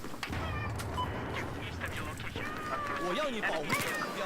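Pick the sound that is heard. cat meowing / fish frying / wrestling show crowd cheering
cat meowing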